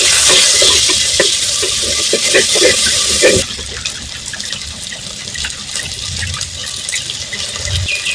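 Tomato and five chillies sizzle and hiss in a pan for drumstick sambar, with loud steady frying for the first few seconds, then a quieter crackle and scattered stirring clicks.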